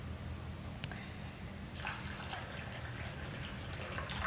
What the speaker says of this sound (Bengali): এরপর এটাকে কয়েকবার জল পাল্টে পাল্টে ধুয়ে নিতে হবে